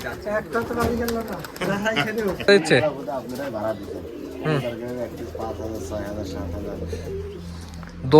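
Giribaj pigeons at a pigeon farm give close, repeated throaty coos and rolling calls, with people talking among them.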